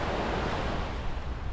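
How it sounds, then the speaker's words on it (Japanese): Calm sea waves at Chigasaki, heard as a continuous wash of surf with some wind noise, steady and fairly close. "茅ヶ崎の海は こう穏やかなね海なんだけど"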